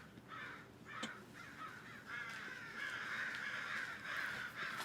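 Several crows caw repeatedly in harsh, overlapping calls, growing louder and more continuous toward the end, gathered close by on a ship.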